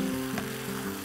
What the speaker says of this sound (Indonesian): Kita masukkan tempenya, kita aduk biar dapat resapan kaldu juga bumbu-bumbunya ya.